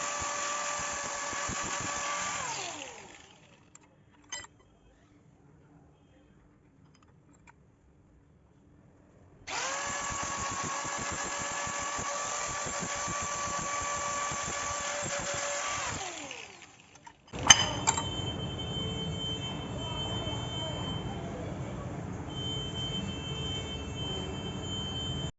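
A power tool polishes a metal-pipe bracket for a 775 motor in two loud, steady whining runs separated by a quiet pause, then switches to a rougher, louder grinding rasp near the end.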